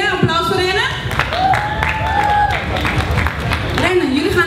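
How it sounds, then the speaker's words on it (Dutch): An audience applauds a band leader at an outdoor pride Sunday event, clapping and cheering beneath loud voices and music-like tones. "Applaus voor Rennen."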